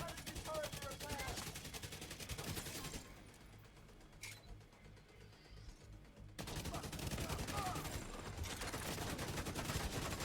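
Rapid automatic gunfire in the video game The Division 2 rattles loud and close in sustained bursts, pausing for a few seconds of quieter mechanical sounds and a single shot before resuming, with a player talking over it.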